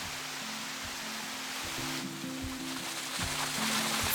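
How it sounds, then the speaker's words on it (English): A river flows outdoors with a steady broadband rush of water. Soft intermittent low tones sit beneath it. "just enjoy the view and the sounds of nature as the river flows through"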